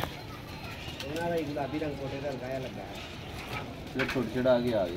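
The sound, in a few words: pigeon cooing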